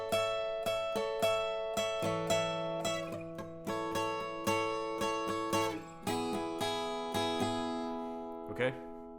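An acoustic guitar strums one chord shape and slides it up the neck, ringing strokes in a steady rhythm with the pitch shifting partway through, ending on a brief scrape of the strings.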